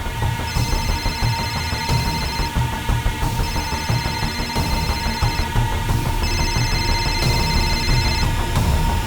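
A telephone rings in a house, repeated bursts of an electronic bell pattern with short gaps, loud and close, sounding alone without talk.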